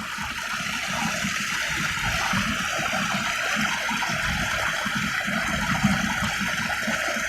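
Clear mountain stream water flows in a continuous, even rush, close and steady throughout with no pauses.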